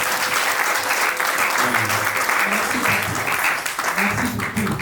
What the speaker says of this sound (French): On applaudit pour vous.